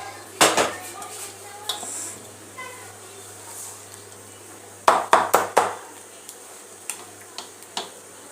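Kitchen sounds of metal utensils and plates clinking as besan batter is moved from one plate to another, with scattered taps and a quick cluster of clatters under a steady low hum.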